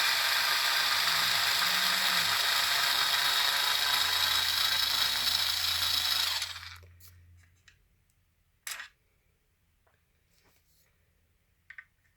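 A power driver whirs continuously for about six seconds, backing out screws from the rear bulkhead of an E-Revo 2.0 RC truck, then stops, followed by a few faint clicks.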